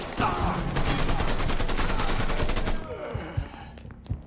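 Sustained automatic gunfire from a Mafia 3 shootout, loud, rapid bursts rattling for nearly three seconds before cutting off into a few scattered thuds and quieter ambient noise.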